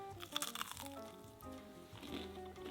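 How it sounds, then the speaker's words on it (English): Crunchy bites into McDonald's vegan plant-based nuggets give a few quiet, brittle crackles near the mouth, partly under a person talking. "Let me show you guys the crunch factor."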